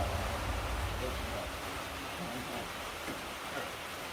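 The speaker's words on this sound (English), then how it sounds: "You can hear it's raining out today" Rain falls steadily outside a garage as an even, hissing wash of drops with no distinct pauses.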